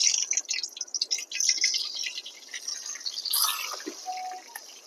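Pointed gourd (potol) sizzles in hot oil in a heated kadai, giving a steady crackling hiss with scattered pops and spatters, fairly close and continuous, with no talking.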